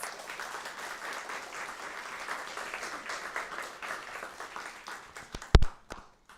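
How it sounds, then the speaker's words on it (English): Audience applause at a report launch event, a moderate, steady patter of many hands that thins toward the end and is cut by a single sharp knock near the close. "Let's give him another round of applause."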